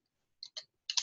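Typing on a computer keyboard while entering an Excel formula: a few sharp, close key clicks in an irregular burst after a brief silence, with no talk.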